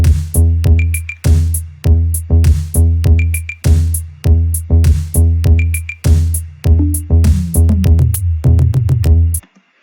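Pumping EDM music built in Soundtrap for a school tutorial, with a deep bass synth line and punchy beats. Short rhythmic bursts repeat steadily, loud and alone, then stop abruptly near the end.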